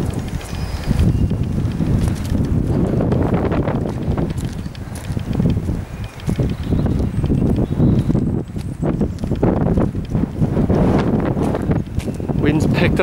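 Gusty wind blowing outdoors on the grounds of the North Wales Hospital, a loud, continuous low rumble that buffets the microphone throughout, with occasional thuds.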